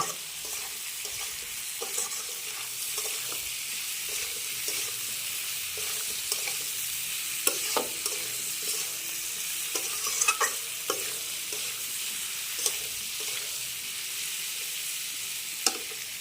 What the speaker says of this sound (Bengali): দিয়ে দিলাম, ভালোভাবে ভেজে নিব।